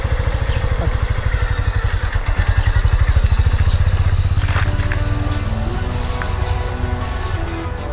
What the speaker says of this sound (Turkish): motosikletli arkadaşlarımız vites değiştirmeyi öğreniyorlar giderken